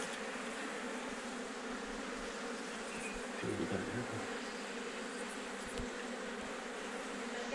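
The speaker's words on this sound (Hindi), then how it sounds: "तो ये रही रानी मधुमक्खी छत्ते के अंदर।" A large swarm of honeybees buzzing around a hive box: a dense, steady, close hum of many bees that continues throughout, with a few louder passes of nearby bees and no talk.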